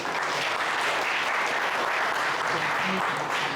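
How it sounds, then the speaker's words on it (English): An audience at a graduation day event applauds throughout, a dense, even wash of clapping from many hands with no pauses. "So maybe a round of applause for our partners."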